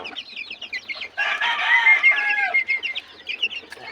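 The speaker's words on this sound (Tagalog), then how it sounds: "sobrang dami na yung mga sisiw natin dito" Chickens and chicks in a crowded flock, with close clucking, a rooster-like crow and brief peeping calls throughout, loud and near, no talk.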